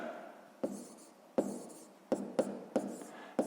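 Pencil scratches across paper while a sixth-grade math sum is written, with continuous soft strokes punctuated by several sharp taps, close and quiet with no speech.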